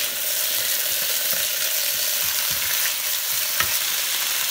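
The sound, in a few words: pork meat frying in a pan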